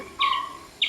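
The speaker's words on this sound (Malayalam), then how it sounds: "ഗ്രാമപ്രദേശത്ത് കേൾക്കുന്നതിനേക്കാൾ കൂടുതൽ മലകളിലെ കിളികളുടെ ശബ്ദങ്ങളൊക്കെ" Two short, bright bird chirps in the hills, clear and fairly close, separated by a brief pause over quiet background.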